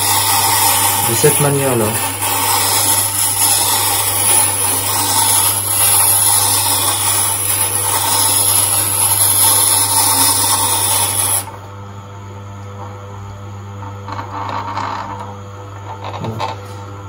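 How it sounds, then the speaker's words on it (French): A Tormek sharpening machine honing a blade gives off a steady, loud motor hum with a continuous grinding rub that stops abruptly near the end, leaving a quieter hum and faint handling noises while someone speaks briefly. "j'actionne et j'affûte ma lame"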